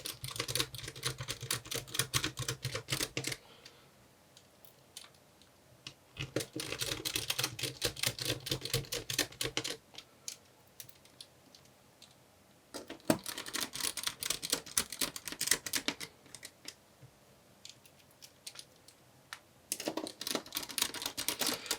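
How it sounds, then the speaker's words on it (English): Hinge screws being refitted on an Acer Aspire 3 laptop, heard as close bursts of rapid ratcheting screwdriver clicks and rattles, separated by quiet pauses between each screw. "We can then refit the hinge screws."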